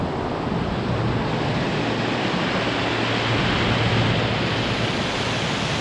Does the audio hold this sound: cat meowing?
no